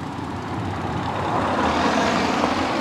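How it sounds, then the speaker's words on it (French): A car passes on a road near the approach to Kilimanjaro, a broad rumbling wash of engine and tyre noise that swells steadily louder over a few seconds, close by, with no talk. "on va laisser passer la voiture"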